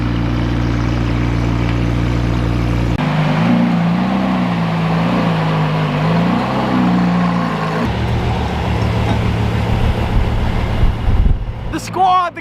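Several hypercars, among them Koenigsegg models, driving past in a sequence of short segments, with steady engine drone, shifting revs and a sharp change between segments, loud and close.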